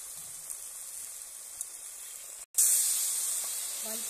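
Mustard-poppy paste with turmeric and chili powder frying in hot oil for katla fish kalia, a steady close hiss that cuts out briefly, then a louder, brighter sizzle that slowly fades.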